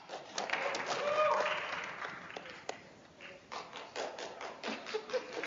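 Supporters at a Board of Education meeting applaud and cheer, a fairly faint wash of clapping that swells and then settles into scattered claps, with voices talking alongside.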